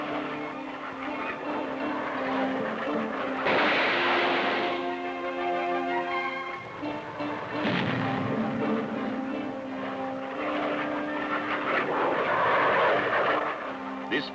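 A 1960s U.S. Marine Corps ground-attack fighter jet roars past, a broad, sustained engine rumble and whine that swells and fades over about fourteen seconds, with some faint tonal hum in the background.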